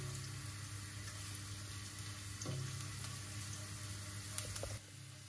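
Ingredients frying in hot oil in a pan while making egg muffins, a soft steady sizzle with faint crackles and a couple of light clinks.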